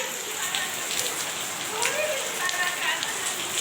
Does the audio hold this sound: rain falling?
yes